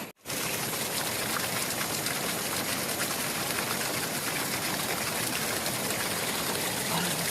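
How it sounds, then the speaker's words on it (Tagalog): River water in a forest being collected, a steady, loud rushing flow that fills the whole clip after a brief quiet start, with no talk over it. "Guys, kuha na tayo ng tubig. Fresh from the ilog."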